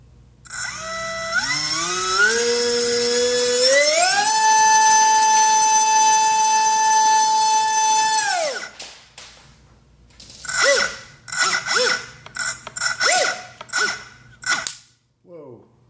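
A Cobra 2300 brushless motor spun by a DYS SN20 speed controller whines up in rising steps to a loud high-pitched scream, holds, then cuts out, followed by several rough sputtering bursts and a voice.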